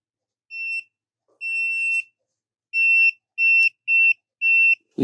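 A multimeter gives a steady electronic continuity beep while probing the wiring of a 2016 Kia Soul clock spring. Six clear tones of varying length, some short and some nearly half a second, sound alone with short silent gaps.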